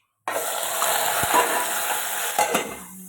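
Vegetables tempered in hot oil in a home kitchen, a loud steady sizzle and crackle running throughout with a couple of sharp utensil clicks, close to the microphone, no talking.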